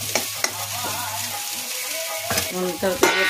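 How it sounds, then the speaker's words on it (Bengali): Spice paste of cumin, ginger and green chilli with turmeric fries in a pan over low gas flame, a steady close sizzle with intermittent scraping stir strokes, louder bursts near the end, no talk. "ভেজে মশলাটা ভেজে"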